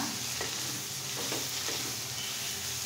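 Red amaranth leaves stir-frying in a pan give a steady, close sizzle, with faint soft stirring strokes underneath and no talking.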